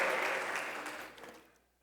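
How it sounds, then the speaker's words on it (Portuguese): Church congregation applauding during a service, a dense wash of clapping that starts full and fades away over a couple of seconds, fairly soft and distant. "Aplauda bem forte a Jesus."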